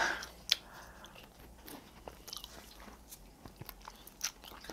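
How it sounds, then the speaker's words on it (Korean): Close, quiet bites and chewing on a crunchy fried chicken wing, with irregular crisp crackles and soft mouth sounds over several seconds. "저는 항상 이렇게 먹어요 날개를."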